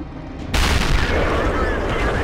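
A tank gun fires in World of Tanks, with the Rhm.-Borsig Waffenträger tank destroyer in play: one loud, sudden boom that hits mid-clip and then fades into a long rumbling tail, with a voice faintly under it.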